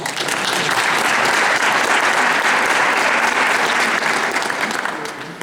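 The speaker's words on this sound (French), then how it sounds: "On peut l'applaudir" An art salon audience gives a loud, dense round of applause for a painter, many hands clapping steadily throughout, tapering slightly at the end.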